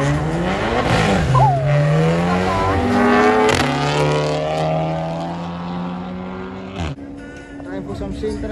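Drag racing cars at a strip, a VW GTI and a BMW M140i, roar loudly with rising engine pitch that sweeps up through the gears, heard close and continuous, with a crowd and commentary voices over the engines.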